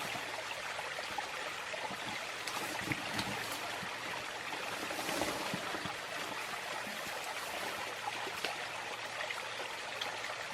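River water runs past on a winter red deer hunt, a quiet, continuous rushing babble of a nearby stream, faint and even throughout with no voices.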